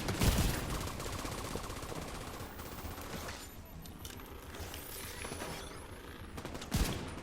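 Video game gunfire during a skill damage build session: a continuous burst of rapid shots with sharp bangs at the start and near the end, loud and steady throughout, no voices.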